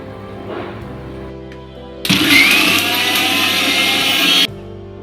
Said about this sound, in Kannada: ಒಂದು ಮಿಕ್ಸಿ ಜಾರ್ಗೆ ಸ್ವಲ್ಪ ಪುದೀನ ಸೊಪ್ಪು, ಸ್ವಲ್ಪ ಕೊತ್ತಂಬರಿ, ಸ್ವಲ್ಪ ಕಡಲೆ, ಹಾಗೆ ಮೆಣಸಿನ್ಕಾಯಿ, ಒಂದು 4ರಿಂದ 5 ಮೆಣಸಿನ್ಕಾಯಿನ ಹಾಕಿ ರುಬ್ಕೊಳ್ತಾ ಇದ್ದೀನಿ